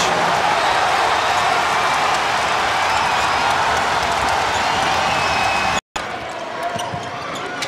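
Dense roar of a basketball arena crowd at an NIT game between Marquette and Penn State, sustained loud cheering across the whole stretch with a brief cut near the end, then the noise resumes slightly lower with commentary underneath.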